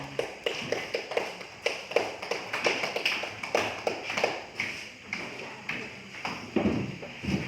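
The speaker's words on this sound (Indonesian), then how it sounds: "Ya, tepuk tangan." Students in a classroom applaud after group presentations in a teaching-practice lesson, a steady run of sharp, fairly close hand claps lasting several seconds at an even, almost rhythmic pace, with faint voices murmuring underneath.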